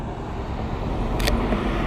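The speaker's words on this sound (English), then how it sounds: "We'll follow this one because it also is a nice car." A car drives past on a road, a steady broadband engine and tyre rumble holding throughout at moderate level, with a brief hiss near the middle.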